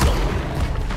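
A Levioso levitation spell cast in the Hogwarts Legacy video game, giving a brief, loud, booming rush that holds steady for about a second and then fades slightly.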